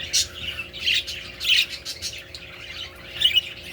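Harsh bird squawks and chirps repeat in short bursts from inside a nest box over a steady low hum, sounding close and slightly boxed in.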